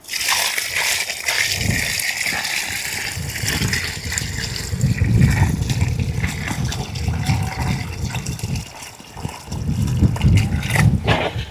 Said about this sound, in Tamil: இப்போ வந்து நம்ம தண்ணி கொடுத்துருக்குறோம்